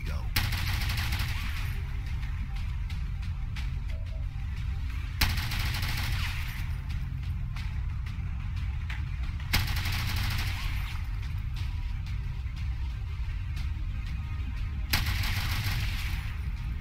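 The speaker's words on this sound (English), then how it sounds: "I love the firing sounds on that cannon." Repeated heavy cannon blasts in the video game XCOM 2, in bursts with rapid rumbling shots, loud and continuous over a dense low background, with brief pauses between volleys.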